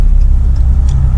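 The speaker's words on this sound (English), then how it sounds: "Pulls good. Good sounding turbo." A 6.7 Cummins diesel truck fitted with a Smeding S369 turbo accelerating, a loud, dense low engine roar that stays steady and close, with faint brief whistles riding on top.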